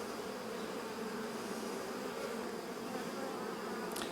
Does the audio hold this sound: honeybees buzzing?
yes